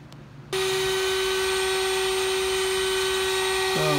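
A CNC spindle running at about 23,000 rpm starts up and holds a steady, loud high-pitched whine with a constant tone, close by, shifting slightly in pitch near the end.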